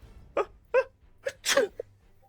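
A voice imitates a sneeze as a character scrunches his face and pulls out a handkerchief, giving a few rising gasps that build into one loud burst and a short catch at the end, alone without other talk.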